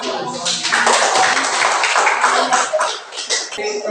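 A classroom of students applauding together, producing a dense, loud burst of clapping that lasts several seconds and then tapers off, with voices mixed in.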